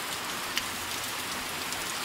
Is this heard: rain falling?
yes